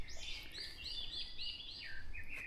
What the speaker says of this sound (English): I can hear birds calling over that way too